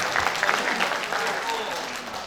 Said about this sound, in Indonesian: Kasih aplaus untuk Bu Lani.